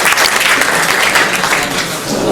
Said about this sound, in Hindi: एक बार फिर से उनके लिए तालियां बजाई भाई